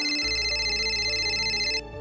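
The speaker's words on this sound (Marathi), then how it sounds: "अरे फोन वाजतोय बघ, कुणाचा आहे?" An electronic ringtone rings steadily and loudly, a sustained bright tone over a low hum, cutting off just before the end.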